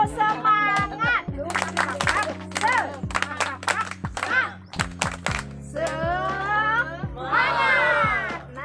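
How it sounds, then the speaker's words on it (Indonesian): A group does a rhythmic clapping chant at a farmers' field school gathering, with sharp claps landing on a steady beat beneath loud chanted and shouted voices, close and lively throughout. "Tepuk semangat."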